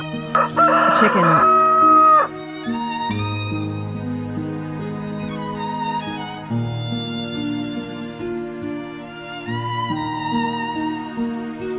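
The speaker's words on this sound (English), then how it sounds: "Chicken." A rooster crows loud and close in one long cock-a-doodle-doo near the start, then music carries on alone.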